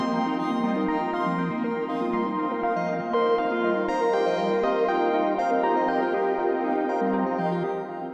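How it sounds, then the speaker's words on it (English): Three generative synth melody voices patched together in VCV Rack play randomized, interlocking sequenced notes. The texture stays dense and continuous at an even, loud level throughout, with no talking. "Together, these 3 voices will sound something like this."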